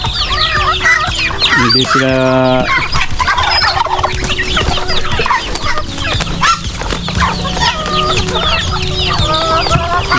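Chickens, a rooster and a mother duck cluck and call nearby in a shaded farmyard, with a loud rising series of calls standing out among steady chatter, while a person talks over the flock.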